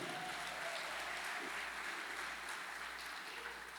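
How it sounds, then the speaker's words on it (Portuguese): Steady applause from a church congregation during a service, continuous and even throughout, with no voices standing out. "aplauda o Senhor pela vida dele"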